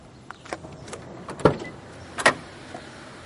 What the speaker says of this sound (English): Check out this door handle.